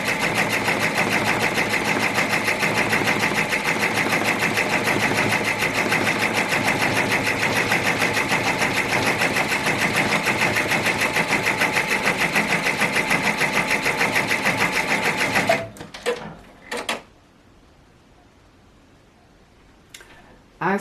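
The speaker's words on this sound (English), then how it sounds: "I stopped the machine because I don't like the way it is stitching out with this 7511 needle." An embroidery machine with a 75/11 needle stitches a design onto a straw hat, a loud rapid mechanical chatter running steadily for about fifteen seconds before stopping, followed by a few brief handling clicks and knocks.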